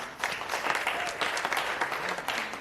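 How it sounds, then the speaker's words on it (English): Audience applause for a performer at a press conference, a steady burst of many hands clapping that swells early and holds fairly loud throughout, with no voices on top. "A round of applause for her, please."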